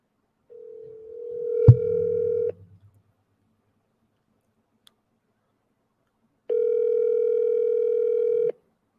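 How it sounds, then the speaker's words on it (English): Telephone tones while placing a call: a steady dial-tone burst with a click, then after a pause a second long electronic ring tone, alone with no talking. "All right, let's call this person here, Keith McClendon."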